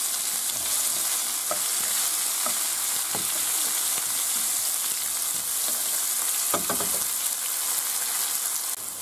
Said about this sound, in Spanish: Ahora echamos el puerro, la cebolleta y el aceite y lo rehogamos un poquito.